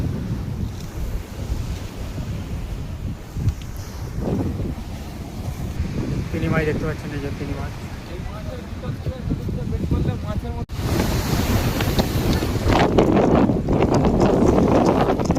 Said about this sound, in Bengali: বুঝতেই পারছেন সমুদ্র সৈকত শঙ্করপুর।